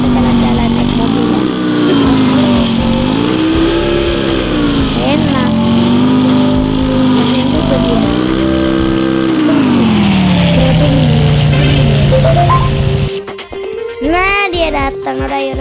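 A car drives in Sakura School Simulator, its engine a loud, continuous drone that rises and falls in pitch as it speeds up and slows, before cutting off abruptly into brief scattered sounds.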